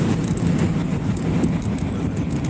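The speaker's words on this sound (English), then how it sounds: "Train was going by." Train rolling past near a bridge between Brooklyn and Manhattan in New York City, a steady loud rumble with faint clatter throughout.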